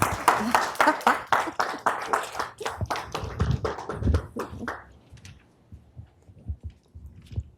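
An in-person audience gives a short round of applause for a speaker being introduced at a leadership talk, loud sharp claps that thin out and fade to scattered taps within a few seconds.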